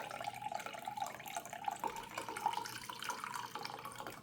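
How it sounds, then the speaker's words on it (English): Liquid pours steadily in a soft, continuous gurgling trickle, quiet and close. "Is that the slowest pouring chicken broth in the world or what?"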